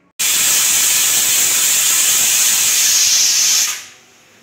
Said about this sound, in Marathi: हे घेवड्याचे दाणे मी भाताबरोबर कुकरला 4 शिट्ट्या करून घेते